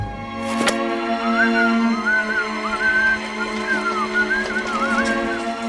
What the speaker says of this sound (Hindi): तू सीटी बजा रहा है